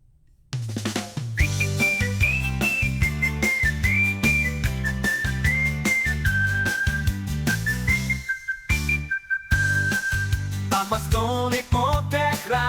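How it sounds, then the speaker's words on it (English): A bright whistled melody rides over a steady, full instrumental backing in an AI-generated song, with a brief drop-out near the end before the music resumes. "this one here sounds more like a whistle"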